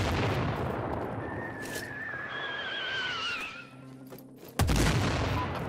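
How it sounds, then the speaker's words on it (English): Mortar fire raining in during a Sniper Ghost Warrior 3 battle: steady rumbling barrage with whistling projectiles arcing overhead, ending in a sharp, loud blast near the close. "Mortar's incoming."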